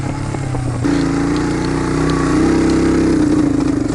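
Suzuki quad runner ATV engine flooding out and bogging, a loud close rough idle that stumbles and surges unevenly, with no voices over it.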